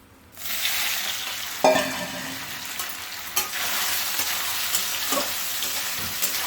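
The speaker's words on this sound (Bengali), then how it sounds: "এখন এর মধ্যে আমি সোয়াবিনগুলো ভেজে নেব" Continuous crackling sizzle of soybean chunks frying in a pan, with occasional clinks of a spoon stirring, close and steady.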